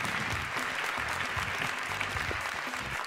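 A studio audience applauds steadily on a television game show as contestants walk to the start button, a dense wash of clapping with a low musical bed running beneath it.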